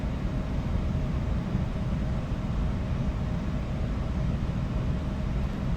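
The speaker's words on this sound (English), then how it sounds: "I like to hear the engines when I'm landing" E-Jet airliner engines in a flight simulator on approach to landing, a steady, even roar with a faint whine, continuous and unchanging throughout with no talk.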